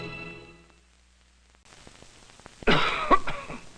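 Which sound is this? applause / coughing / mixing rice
coughing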